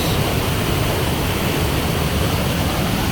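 Hidden Falls pours into a river gorge as a dense, steady roar of rushing water, constant and fairly loud, with no voices over it.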